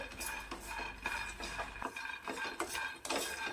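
Peanuts roasting in a pan are stirred with a metal spoon, producing quick rattling clinks and scrapes in a busy rhythm, close and moderately loud, with no voices.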